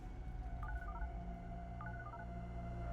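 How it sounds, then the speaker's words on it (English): A phone number is punched in on a keypad: two quick bursts of dialing beeps over a steady low hum, close and clear. "picks up his phone, and dials the number of Special Agent Force"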